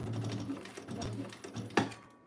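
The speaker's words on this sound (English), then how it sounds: "I'm going to do my top stitching" A domestic sewing machine runs steadily through a short burst of top stitching, its needle chattering close by before a sharp clack near the end, with no speech over it.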